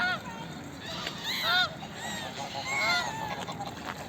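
Several geese honk repeatedly in overlapping bursts, loud and close, with ducks, swans and other waterfowl calling in the busy outdoor background as birds are fed bread.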